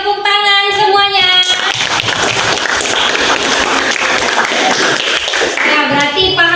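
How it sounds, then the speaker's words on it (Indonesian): Schoolchildren in an Islamic religious education class clap their hands together on cue, a dense, steady burst of classroom applause with children's voices chattering over and around it. "Oke, tepuk tangan semuanya"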